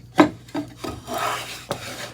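A Stanley No. 278 rabbet plane cuts a rabbet in wood in short rasping strokes, three or four quick scrapes followed by a longer steady shave, close and fairly loud, with no talking.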